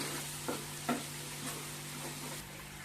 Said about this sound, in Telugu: చేపలు ఇలా ఒక్కొక్కటే వేసుకోవాలండి.